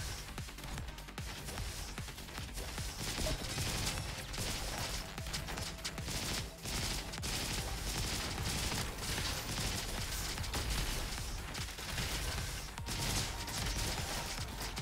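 Enemy lasers firing in the shooter game Roboquest, a dense, continuous barrage of crackling shots and mechanical clatter that stays busy and fairly loud throughout.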